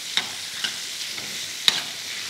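Onions and chana dal stirred in a pan for a Vidarbha dal kanda rassa, a few soft scraping strokes over a low sizzle with one sharper clink of the spoon.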